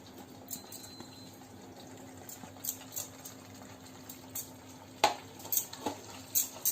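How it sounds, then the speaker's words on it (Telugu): A utensil stirs restaurant-style chicken Manchurian with capsicum through its sauce in a pan. Soft scraping and shuffling run steadily, with a few brighter clinks and scrapes toward the end. No voices are heard. "ఈ సాస్ మొత్తం పట్టేటట్టు, గ్రేవ్ అంతా పట్టేటట్టు బాగా మిక్స్ చేసుకుందాం"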